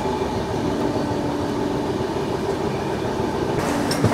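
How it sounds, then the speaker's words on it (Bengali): From inside a coach, the 12863 SMVT Bengaluru Express pulls into Vizianagaram Junction with a dense, continuous wheel-on-rail roar and faint rhythmic clatter, ending in a sharp knock. "ট্রেন ঢুকে পড়লো ভিজিয়ানা গ্রাম জাংশনে।"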